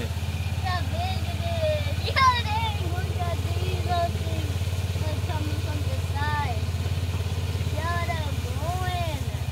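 A side-by-side farm utility vehicle rolls slowly through grass near a pond, its engine running as a steady low rumble, close and continuous, while people talk and a voice chatters over it.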